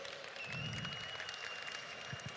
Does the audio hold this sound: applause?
yes